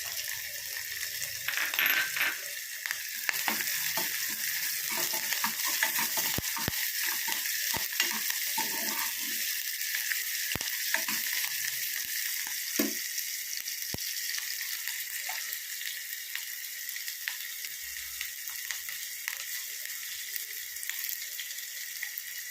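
Chopped ginger and green chilies fry in a pan for a Kerala grape pachadi, giving a continuous close sizzle with scattered metallic clinks and scrapes of a spoon throughout.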